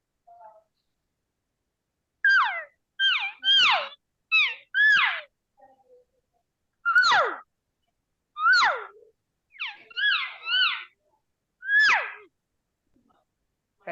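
A voice imitates elk calf and cow calls, a series of short, squealing, rising-then-falling chirps in quick groups of two or three, spaced across the stretch with brief pauses between, fairly close and clear.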